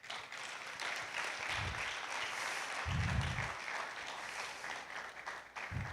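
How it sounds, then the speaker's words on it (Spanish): A church congregation gives strong applause to the Lord during a Spanish-language sermon, a steady wash of clapping held for several seconds, moderately loud, with brief low thumps and faint voices underneath. "Dale un fuerte aplauso al Señor"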